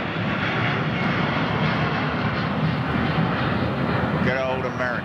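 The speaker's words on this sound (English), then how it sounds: "Good old American. 777." Loud, steady roar of an American Airlines Boeing 777's jet engines, a broad sustained rumble close by, with a brief higher whine near the end.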